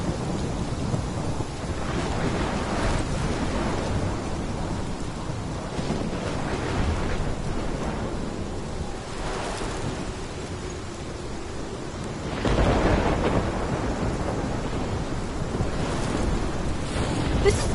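A violent storm in the video game Life Is Strange, with continuous roaring wind and crashing waves, heavy rain and rolling thunder swelling in loud surges throughout.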